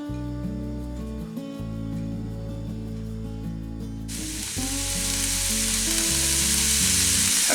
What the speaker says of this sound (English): Just a little bit of olive oil. Put our onions in.